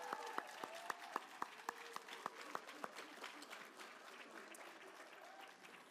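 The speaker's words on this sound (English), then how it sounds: "Give them applause as well." An audience at a spring nursing pinning ceremony applauds graduates' friends and family, with sharp individual claps standing out at first before blending into a faint, sustained round of clapping.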